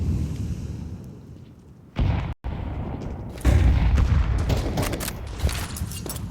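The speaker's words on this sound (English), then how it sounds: "Grenade into the lower tunnels." A grenade goes off in a Counter-Strike match on Dust2, a heavy boom after a brief silence, followed by rumbling and scattered sharp gunfire-like cracks in the game's ambient noise.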